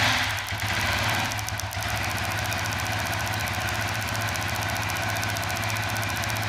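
A fuel-injected Suzuki FU 150 motorcycle with a bore-up engine and stock ECU runs steadily and loudly close by, its buzzing exhaust note holding an even idle throughout.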